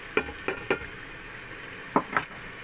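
Ground coriander, fennel, black pepper and other spices roasted together in a pan for a curry, a soft low sizzle broken by five distinct scraping stirs in two short clusters, close and clear, no voices.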